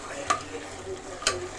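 Turmeric and spices frying in hot oil for chicken biryani, a low steady sizzle close by, with two brisk stirring scrapes standing out, and nobody speaking.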